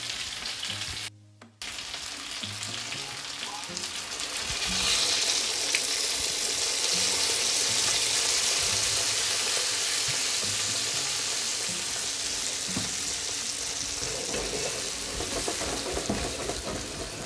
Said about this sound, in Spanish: Y ahora le vamos a echar nuestra Coca-Cola.